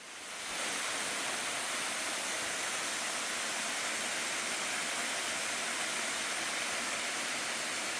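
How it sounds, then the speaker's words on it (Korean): A waterfall on a hidden urban trekking course in Gwacheon roars in a dense, steady rush of white water that fades in quickly and holds constant, close and loud. "제일 상단부 폭포를 보면 마치 무린 고수들이 수련하던 비밀 폭포 같습니다."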